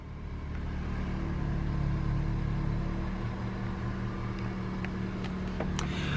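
A 2018 Toyota C-HR 1.2 Excel with a 6-speed manual idles steadily just after start-up, a smooth low hum with a faint whine, even and close, with a few small clicks near the end and no talking.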